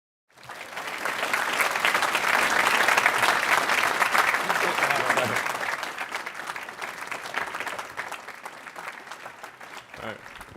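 An audience at Caltech bursts into sustained applause welcoming Elon Musk, the clapping swelling quickly, holding dense and full for several seconds, then gradually thinning out over about ten seconds.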